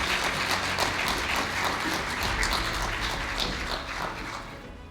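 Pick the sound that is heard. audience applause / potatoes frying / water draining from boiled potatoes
audience applause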